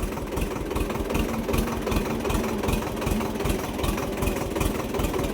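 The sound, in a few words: tractor engine driving with a load of cucumbers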